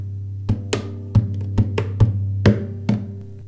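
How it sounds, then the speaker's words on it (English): Rhythmic percussive slaps and a scratch on a guitar body, about eight crisp hits over a sustained low string hum, close and clear with no talking. "that percussion bit should sound like this"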